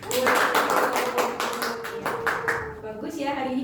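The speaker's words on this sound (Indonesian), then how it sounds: "Ya, beri aplaus" Applause in a classroom during a microteaching lesson: a short round of quick hand claps from a group, fairly close, fading after about three seconds while a voice talks over it.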